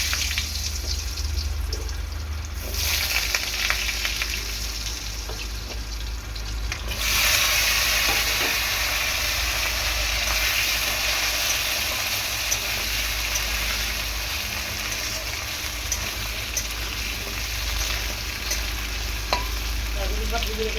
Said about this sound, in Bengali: আলুগুলো প্রথমে দিয়ে দেবো কড়াইতে